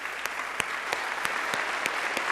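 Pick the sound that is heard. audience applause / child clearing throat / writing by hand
audience applause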